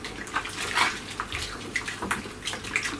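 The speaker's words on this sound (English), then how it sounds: "Right, adding the hot wort back." Hot homebrew wort from an English bitter kit splashing as it is poured back into a fermenter, an irregular run of close, bright splashes and gurgles, no talk.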